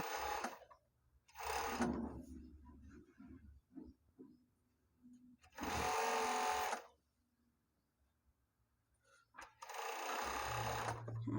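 Sewing machine stitching seams on a basic t-shirt: three loud, sustained whirring runs of a few seconds each, with quieter gaps between them filled by soft handling of the fabric and brief voice.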